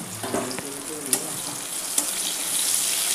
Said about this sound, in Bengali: ফুলকপিটাও একটু নুন দিয়ে ভালো করে একটু ভেজে তুলে নেব।